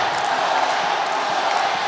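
Boxing crowd at a match between John Colin and Xolani Mgidi, a dense continuous roar of many voices chanting and cheering together, loud and unbroken throughout.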